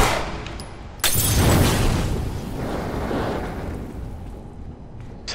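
Gunfire in The Last of Us Left Behind, a sharp report followed by a dense burst of shots and rumbling blasts, loud and continuous throughout.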